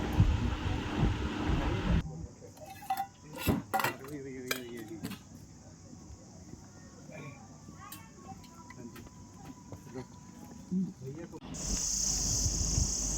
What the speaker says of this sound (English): Could you hear the buzzing of the cicadas?